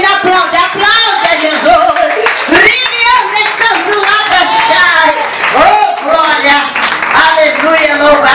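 Church congregation clapping along during a service, rapid uneven hand claps mixed with loud singing or shouted praise that stays on top the whole time.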